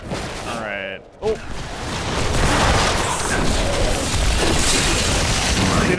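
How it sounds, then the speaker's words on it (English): Corpse explosion skill in the Diablo III PC video game, a dense roaring burst of explosive blasts that swells after a short gap and holds as a loud, sustained rumble of detonations. "That's where we get the corpse explosion going on."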